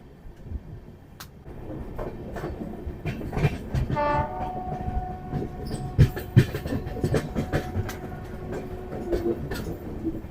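A Sealdah–Banaras Amrit Bharat Express train running, with continuous rumbling and clattering of the carriages and one short horn blast partway through, with no voices.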